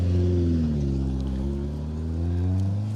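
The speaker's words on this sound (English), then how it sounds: "Ben Duke in the Super 1600 Corsa" A Super 1600 Vauxhall Corsa rally car on an asphalt stage drones past with a steady mid-pitched engine note that shifts gradually in pitch, loud and close throughout.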